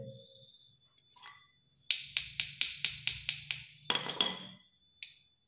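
Holes being punched for a remote spirit-fuel firecracker igniter made from gas stove parts: a close, quick run of sharp metallic taps in an even rhythm, then a cluster of harder hits and one last tap.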